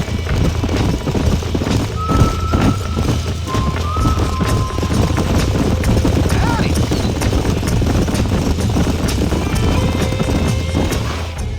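Horses gallop in the Red Dead Redemption video game, rapid rhythmic hoofbeats drumming steadily and fairly close, with brief whinnies and snorts mixed in and voices talking over the clatter.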